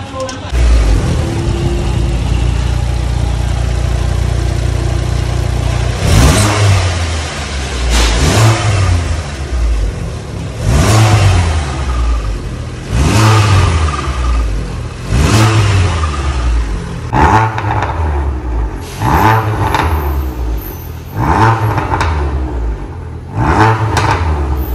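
Turbocharged Proton Suprima S engine fitted with a new downpipe, revved repeatedly in roughly two-second pulses, each blip rising and falling over a steady idle; loud and close, with brief voices near the end.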